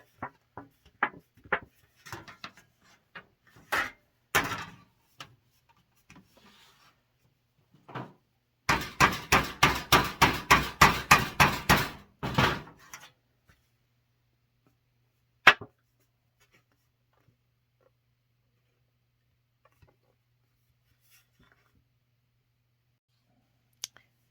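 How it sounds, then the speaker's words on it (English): A hammer taps out a kink along the bent, rolled metal edge of a dollhouse. About a dozen quick, evenly spaced metallic knocks come close together in one burst, with scattered lighter handling clicks before and after and quiet stretches in between. "I saw there was a little kink along this edge and I was able to hammer that out."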